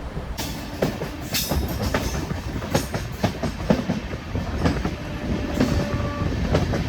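A Punalur–Madurai Express made up of LHB coaches runs through a station without stopping, with a steady rumble and rhythmic clatter of wheels over rail joints throughout, heard from on board and with no talking.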